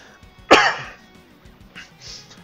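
After a drink goes down the wrong pipe, one sharp, loud cough bursts out close up, followed by quieter throat noises and faint breathy sounds.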